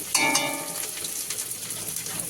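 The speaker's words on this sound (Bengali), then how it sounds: "এখানে পাশে ডুমুর সেদ্ধ হচ্ছে" Figs boil in a pot beside the stove, giving a steady close bubbling hiss with a brief rattle at the start and no talking.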